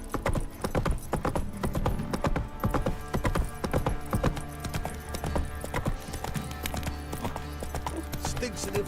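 Horse hooves trotting in the video game Witcher 3, a fast steady clip-clop close up that lasts the whole stretch, with a few spoken words mixed in.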